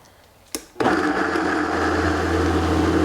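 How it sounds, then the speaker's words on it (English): Powerful countertop blender whirring through water and ingredients for plant-based mayo, starting with a click and a sharp burst, then a loud, steady motor roar that runs on alone close by. "You can see how powerful this blender is."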